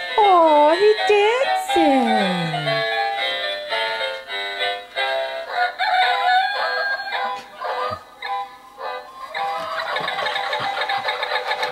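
A toy duck dancing and playing electronic sounds, with tonal bleeps and melodic squawks, a falling swoop early on, then a busier burst of tones at the end, loud and close.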